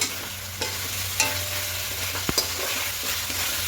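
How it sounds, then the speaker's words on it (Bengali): A spoon stirs fried potatoes in a frying pan for a vegetarian potato-paneer dum, with a steady sizzle under occasional scraping strokes and a couple of sharper knocks against the pan. "আলুগুলোকে খুব ভালো করে মিশিয়ে নেব"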